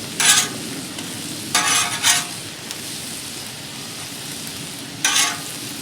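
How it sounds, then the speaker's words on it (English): Corn tortillas toasting on a Blackstone griddle, a steady low sizzle broken by a few short bursts of spatula scraping against the flat metal surface, close by. "After letting your tortillas toast to a slight yellowish color, you're going to pull them up."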